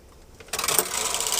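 A knitting machine carriage pushed across a full bed of needles, starting quietly then breaking into a bright, rattling mechanical whir that continues to the end.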